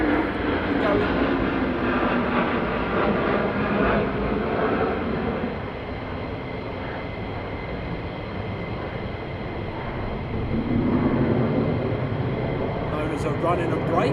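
A jet aircraft roars close by at RAF Lakenheath, a loud sustained engine rumble that dips slightly mid-way and swells again, with voices talking over it.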